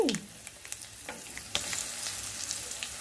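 Wood apple pickle pulp mixed with salt, chili, fenugreek powder and asafoetida sizzles in a hot pan while being stirred, with a soft continuous crackle and a few scraping strokes, close and without talk.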